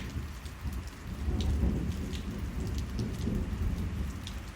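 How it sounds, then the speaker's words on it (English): A convectional rainstorm in Botswana: steady rain patters close by while deep rolling thunder rumbles through the low end, swelling louder midway and staying continuous, with no voices. "Thought I'd keep that thunder in just for some dramatic effect."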